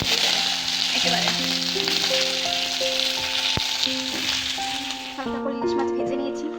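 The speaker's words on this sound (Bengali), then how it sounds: "এখানে আমি শাকের জন্য 5 ফোড়ন, কাঁচা লঙ্কা দিয়ে সবজিগুলো সব ভাজতে যাবে একেবারে।" Vegetables frying in hot oil with five-spice seeds and green chili in a home kitchen, a continuous close sizzle under steady background music, with a brief stir partway through.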